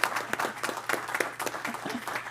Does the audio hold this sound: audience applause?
yes